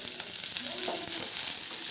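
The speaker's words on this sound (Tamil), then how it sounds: "ஸோ பொரிஞ்சதுக்கப்புறம் நம்ம நறுக்கி வச்சுருக்க வெங்காயத்தை ஆட் பண்ணிக்கலாம்" Close, steady sizzling of chopped onions frying in oil, with a brief stirring clatter in the middle and no voices.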